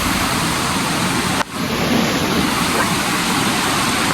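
At Chakratira waterfall, water rushes down in a dense, constant roar that fills the whole clip, loud and near, broken only by one brief knock near the start.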